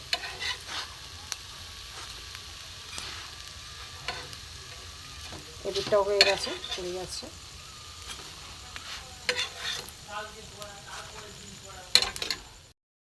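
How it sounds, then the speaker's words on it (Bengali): Potato and egg paratha fries in light oil in a pan, a steady soft sizzle with occasional scraping and clinks of a utensil, while someone talks over it. "দু পিঠ হয়ে গেছে লাল লাল করে ভাজা তুলে নেবো হালকা তেলে ভাজা"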